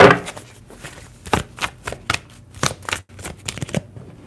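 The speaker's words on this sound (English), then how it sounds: "Let's shuffle it real quick" Tarot deck being shuffled during a live reading, with a run of irregular soft riffling and slapping bursts of cards, close and fairly quiet, with no talking.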